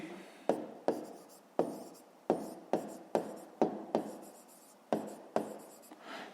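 Pen or pencil writing by hand on paper during a fifth-grade maths lesson, a series of about a dozen sharp scratching strokes in an irregular rhythm, close and clear with no talk.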